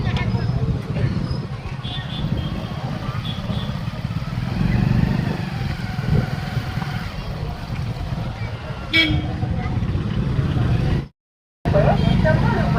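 A motorcycle engine rumbles steadily up close at a fair, with crowd noise around it, a brief horn toot, and a short cut to silence near the end.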